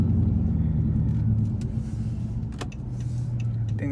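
Deep, steady rumble of a straight-piped 5.7 Hemi V8 in a 2013 Chrysler 300C, a loud continuous drone while driving.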